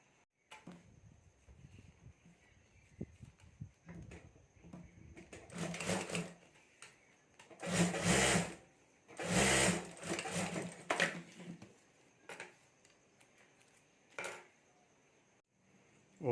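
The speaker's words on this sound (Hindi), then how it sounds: "तो यहाँ भी मैं एक सिलाई कर देता हूँ।" A sewing machine stitches a clutch bag in several short, quiet runs separated by pauses, the bursts coming intermittently against a hushed background.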